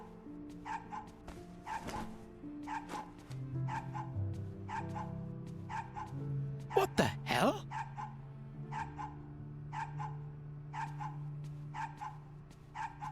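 A dog barks repeatedly in a steady rhythm of short, sharp barks at moderate distance, continuing throughout under a low background hum, while a person briefly exclaims in the middle.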